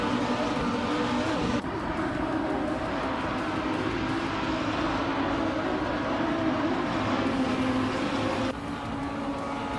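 Race car engines roar continuously in a racing video game, a dense, loud, steady drone of several cars running close together with no talking over it.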